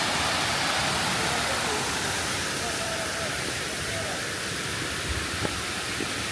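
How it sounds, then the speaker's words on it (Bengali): Close to the artificial waterfall at Foy's Lake in Chittagong, a loud, unbroken wash of falling water fills the air, with faint voices of people talking beneath it. "আমরা এখন কৃত্রিম ঝর্ণার কাছাকাছি। এটা হচ্ছে কৃত্রিম ঝর্ণা।"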